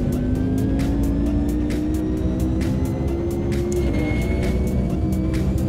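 A GT1 race car at Donington Park in the racing game Automobilista 2, its engine droning loud and steady with slowly shifting pitch, punctuated by rapid rhythmic ticking clicks and faint tire scrub, with no talking.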